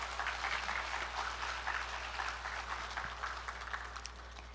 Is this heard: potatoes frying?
no